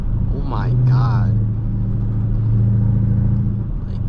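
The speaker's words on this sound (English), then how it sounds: "it has like that V6 tone, like it's the drone is so bad" Straight-piped 2013 Dodge Durango R/T drones with a steady low exhaust tone while cruising, loud and continuous, with a brief voice over it near the start.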